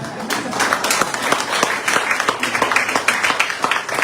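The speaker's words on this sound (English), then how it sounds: "You can give him a round of applause." Audience at a memorial lecture on Dominica's languages claps for a speaker's husband, a moderately loud spread of individual claps with distinct sharp hits, uneven rather than rhythmic, lasting the whole stretch.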